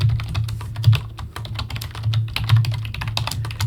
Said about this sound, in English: you guys can hear me beating on the keyboard